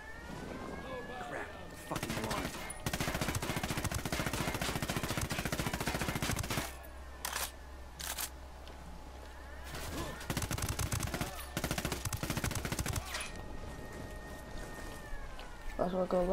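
Rapid gunfire bursts and single shots from the video game Ghost Recon Wildlands, loud and close, broken by short pauses, with a steady low background drone and talk among the bursts.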